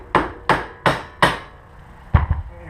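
A hammer strikes the lower ball joint of a Yamaha Grizzly 660 ATV four times in an even rhythm, sharp metallic blows up close, then a heavier, duller knock follows after a pause.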